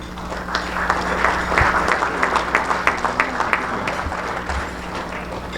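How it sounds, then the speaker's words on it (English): Steady applause from a crowd at a baseball hall of fame induction ceremony in a hotel, many hands clapping continuously at moderate volume throughout. "If you guys can hold your applause to the end"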